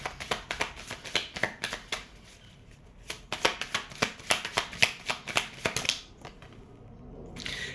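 Tarot cards are shuffled in quick bursts of crisp riffling slaps and flutters, close and fairly loud, pausing briefly between runs before tapering off.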